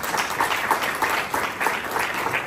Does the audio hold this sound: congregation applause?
yes